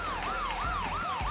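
A voice imitates a police car siren with a steady, rising and falling wail repeated about three times, close and alone, during a comedy stage sketch.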